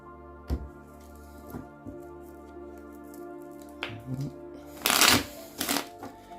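Playing or tarot cards being shuffled and handled for a card reading, with scattered taps and a loud riffling burst near the end over a quiet backdrop.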